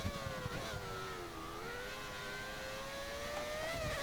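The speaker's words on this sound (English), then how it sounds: "That engine sounds awesome. Just a V12. Listen to that. Absolutely screaming." A V12 Formula One car from the F1 2013 video game laps Imola with a high, steady engine whine that shifts pitch gently as it holds speed, quiet and continuous with no talk.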